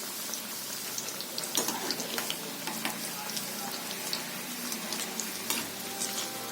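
Potato keema pakoras frying in oil over medium heat, a steady close crackling sizzle with scattered sharp pops and bubbling, no talking.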